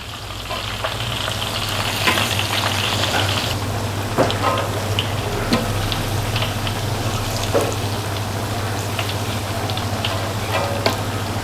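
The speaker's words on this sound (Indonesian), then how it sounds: "lanjut buat goreng si ayam" Chicken frying in hot cooking oil, a steady, close, dense sizzle with bubbling crackle that holds throughout, with no voices.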